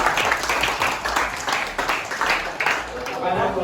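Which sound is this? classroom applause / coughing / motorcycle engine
classroom applause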